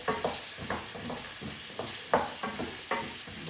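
Vegetables browning in a hot pan for beef bourguignon: a constant sizzle broken by regular scraping stirs about every half second, close up with no voices.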